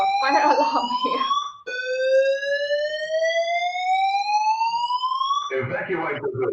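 A building fire alarm sounds during a conference keynote, with a loud rising electronic sweep that restarts into a long second sweep, and a person talking over it at the start and again at the end.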